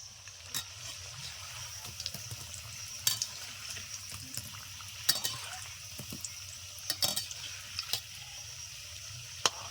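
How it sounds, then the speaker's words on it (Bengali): An egg-battered snack fries softly in oil as a steady low sizzle, with occasional sharp clicks and scrapes from stirring. "ভাজা প্রায় হয়ে গেছে আর এক মিনিট মতো নেড়েচে নামিয়ে নেব"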